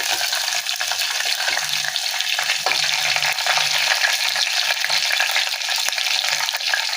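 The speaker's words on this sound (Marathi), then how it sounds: "त्यात आपण लसूण पेस्ट टाकूया." Garlic paste frying in a pan over low gas, a loud, close, continuous sizzle with light stirring scrapes throughout and no voices.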